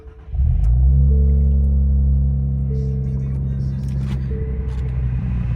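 A Nissan Z engine fires up on a fresh performance tune, catching with a loud low rumble and a brief rise in revs before settling into a steady, close, throaty idle that holds to the end.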